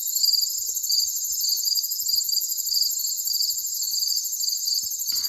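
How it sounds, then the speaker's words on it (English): Crickets and cicadas on a summer night, a dense steady pulsing chirr of insects that holds evenly throughout with no voices. "That's what a summer night is, crickets and cicadas."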